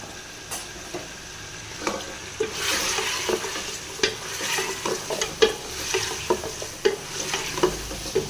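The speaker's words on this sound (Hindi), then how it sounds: "अदरक को भी डाल के फ्राई करेंगे" Ginger and onion sizzle and crackle in a hot pan while a spoon stirs and scrapes now and then, fairly quiet and close, with no voices.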